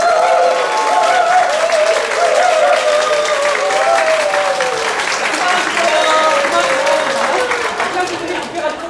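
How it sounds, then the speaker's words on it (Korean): Wedding guests at a Korean wedding ceremony break into loud, sustained applause, a thick continuous roar of clapping from a close crowd with voices and some cheering mixed through it. "친구분들 박수 주세요."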